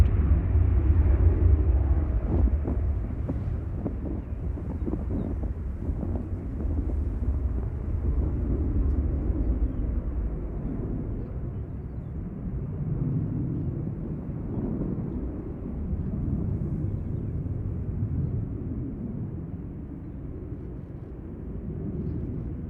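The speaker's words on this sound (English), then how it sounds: "Ryanair Alicante rolling in the background." A Ryanair jet rolls along the runway at Manchester Airport, a steady broad engine roar and rumble that stays loud throughout, slightly stronger at the start, with no talk over it.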